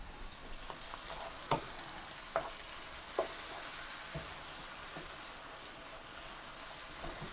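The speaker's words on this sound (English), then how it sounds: "So this is cooking nicely. We need to brown the meat." Pork tenderloin browns in a pan with a soft, steady sizzle, while several sharp scraping knocks of a utensil stirring the meat land at roughly regular intervals.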